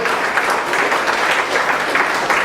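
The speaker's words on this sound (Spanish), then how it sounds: "Denle un fuerte aplauso a la gloria del Señor" Steady applause from a church congregation during a sermon, a full, even wash of many hands clapping throughout with no clear speech over it.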